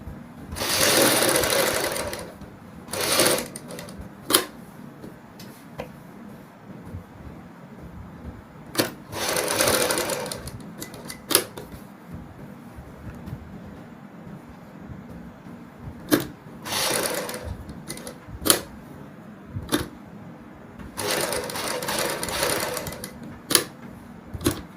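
A sewing machine stitching the neckline of a kurti, with bursts of rapid mechanical whirring and clacking separated by pauses and isolated clicks as the fabric is repositioned, close and loud, with no talk.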